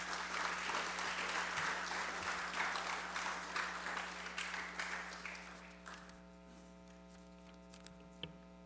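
Applause from the audience in a legislative special session, a loud dense clapping that thins and fades after about six seconds, leaving a steady mains hum with a few scattered claps.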